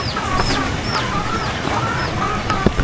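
A hen clucks and cackles after laying an egg, giving repeated short calls with sharp rising notes at a steady rhythm. The calls sound fairly close over constant outdoor background noise.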